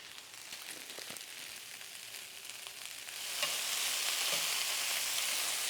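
Zucchini seasoned with ginger, garlic powder and soy sauce frying in a pan, a close steady sizzle with light stirring that swells louder and brighter halfway through, with no talking.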